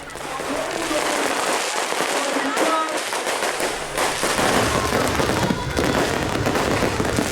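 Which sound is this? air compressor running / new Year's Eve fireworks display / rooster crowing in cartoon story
new Year's Eve fireworks display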